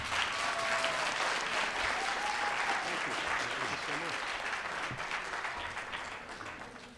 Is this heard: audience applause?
yes